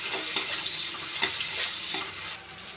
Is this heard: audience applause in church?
no